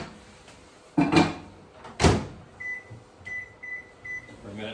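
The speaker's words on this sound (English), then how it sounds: "I'm gonna throw that in the microwave." A microwave oven heating a bowl of green beans in a home kitchen, with a door clunk and handling thuds early on, then a steady hum and a few short beeps at the end.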